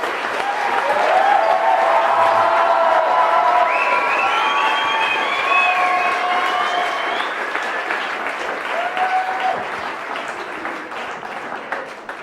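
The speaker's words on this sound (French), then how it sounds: "il faut l'applaudir plus fort" A crowd applauds steadily at Camp Junior's 100th-anniversary celebration of La Bouée after a clown act, with dense clapping, cheers and bright whistle-like tones, easing off slightly toward the end.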